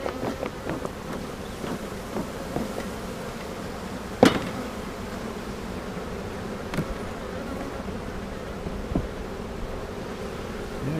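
Honeybees buzzing around an open beehive with a honey super, a steady close hum of many bees with occasional louder passes and a few faint clicks, no talking.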